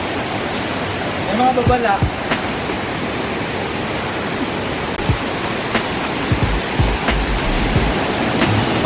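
Pangyan Falls pours down as a steady broadband rush of falling water, continuous and fairly loud throughout, with people talking briefly over it near the start.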